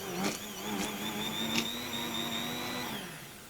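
A blender whirs steadily as it blitzes a yuzu kosho beurre blanc until foamy, a close, sustained motor whine with shifting pitch and a few brief knocks, stopping near the end.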